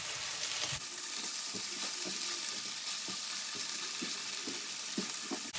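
Vegetables sizzle steadily in a frying pan with cabbage and Heura plant-based pieces, while a spoon stirs them in a series of soft scraping strokes roughly every half second, close and continuous with no talking.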